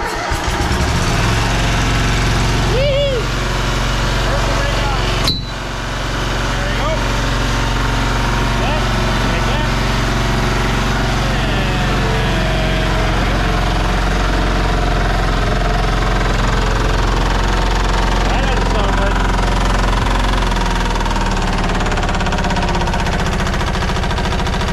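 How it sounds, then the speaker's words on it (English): An old engine with a spun connecting rod runs at steady idle, a loud continuous low rumble with a faint repetitive knock underneath and a sharp clunk early on. "I think we just spun a rod in the old"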